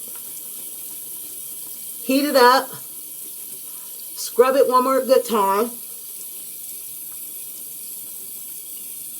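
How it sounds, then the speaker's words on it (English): Warm tap water running steadily for wetting hands at a sink, a constant hiss throughout, with a person speaking briefly over it. "I wet my hands one more time with the warm water"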